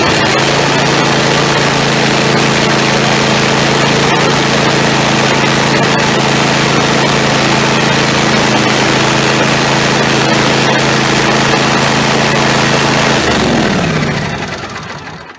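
A John Deere E140 lawn tractor idles loud and close with its mower deck engaged, a steady droning hum that holds evenly before winding down near the end.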